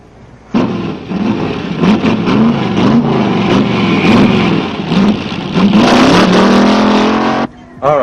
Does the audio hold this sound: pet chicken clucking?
no